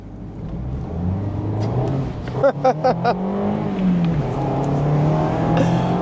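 A 2024 facelifted Mazda MX-5 engine pulls on a twisty road in crisp cold weather, a close steady drone rising in pitch, broken by a quick series of sharp clicks partway through.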